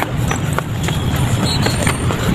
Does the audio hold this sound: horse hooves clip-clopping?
yes